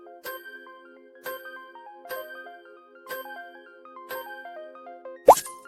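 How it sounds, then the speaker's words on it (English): Wedding bells sound effect: five evenly spaced chimes, each a bright ringing bell phrase with descending tones about one second apart, ending in a sharp clattering burst; clear and close with no voices. "Wedding bells."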